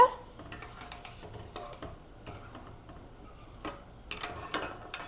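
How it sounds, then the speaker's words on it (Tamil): Intermittent clinks and scrapes of a utensil against a pot as coconut milk is stirred, fairly quiet with a few sharper knocks near the end. "நல்லா லேசாக மிக்ஸ் பண்ணி விட்டுக்கோங்க."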